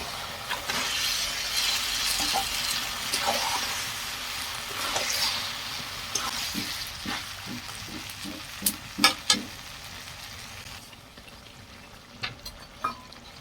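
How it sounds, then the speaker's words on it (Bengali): Chicken pieces dropped into a pan of well-sautéed spice masala for a jackfruit chicken curry sizzle and crackle steadily, with clinks and stirring knocks growing sharper toward the end; no talk. "দেখুন আমার মশলাটা ভালো করে কষানো হয়ে গেছে। এর মধ্যে দিয়ে দেবো চিকেন।"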